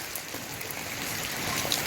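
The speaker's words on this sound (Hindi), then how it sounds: "हम तो अंदर चले जाते हैं, हम इधर तो बारिश हो रही है।" Rain falls steadily outdoors during a rainy spell, making a dense, continuous hiss with no pauses or voices.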